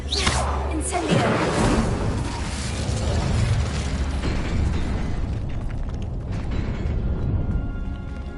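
An Incendio fire spell cast in a video game lets out a loud burst and whoosh near the start, then a sustained roaring, crackling rumble and mechanical creaks fill the rest of the clip.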